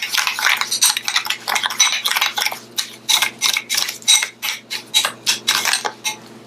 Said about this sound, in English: We're gonna mix this in the brown sugar.